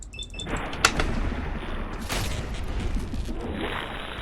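Gunfire in the video game Fallout 4, aimed as a headshot: one sharp, loud crack near the start, then a few more rough bursts over a constant background din of game sound.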